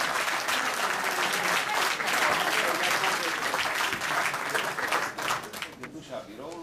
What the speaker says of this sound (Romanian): Deci să ne aplaudăm!